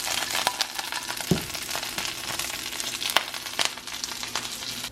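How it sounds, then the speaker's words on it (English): Kale sautés in a pan with a steady close sizzle and crackle, broken by a few sharp utensil clicks and stirring scrapes. "while the kale is sauteing in the pan"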